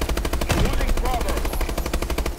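Video game gunfire rattles in rapid continuous automatic bursts, loud and dense throughout, with a voice faintly underneath.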